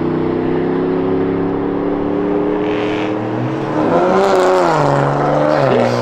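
A single cab pickup truck and an Infiniti Q50 race side by side, their engines droning loudly and close, then rising in pitch as both accelerate hard.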